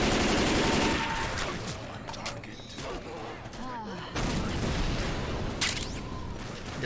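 Rapid bursts of turret gunfire and booming blasts from the Left 4 Dead 2 video game, modded, fill the clip loud and continuous, with a brief dip in the middle before the barrage returns under occasional game noise.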